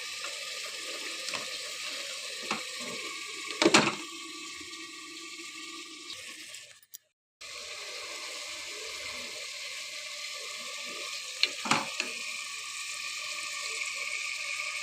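Chopped vegetables and tomato sauté in a pan for a pulao, giving a steady close sizzle broken by a couple of louder stirring knocks and a brief silent gap midway.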